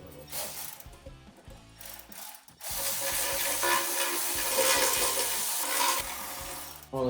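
A ratchet clicks steadily and close while engine timing cover bolts are loosened during a top-end teardown, with quick bursts of pawl clicks, a short pause, then a longer continuous ratcheting run.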